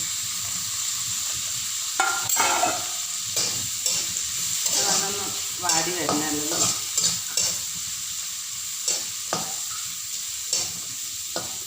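Ginger, green chili and garlic fry in a hot pan, with a steady sizzle throughout and sharp scraping stirs recurring every second or so, close and clear with no talking.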